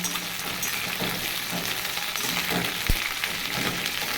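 Onion greens and garlic greens fry in a pan over a gas flame, giving a steady, close sizzle and crackle that runs unbroken for the whole stretch, with no voices.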